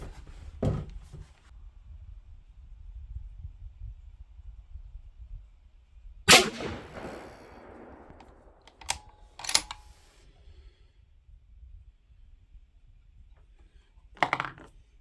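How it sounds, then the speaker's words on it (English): A 6.5 PRC rifle fires during load development with a 53.7-grain charge. A few sharp, loud reports are spaced seconds apart, and one leaves a long ringing decay across an otherwise quiet outdoor background. "All right, and we're ready for our first shot here."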